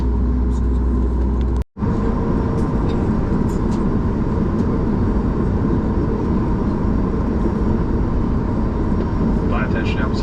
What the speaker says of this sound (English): Here we are taxiing for departure off of runway 33